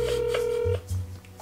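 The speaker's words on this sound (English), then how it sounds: "Should I try calling from my phone?" A phone call rings out through a handset speaker, a steady tone holding for most of a second before a lower buzzing tone follows, close and fairly loud with no talk over it.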